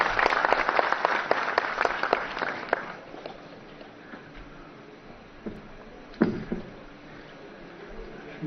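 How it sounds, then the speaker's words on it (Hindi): An audience at the closing ceremony of the Himalayan Film Festival applauds to welcome the governor as speaker. A burst of dense clapping lasts about three seconds, then fades to a quiet hall with a few scattered claps and shuffles. "जोरदार तालियों के साथ स्वागत करें।"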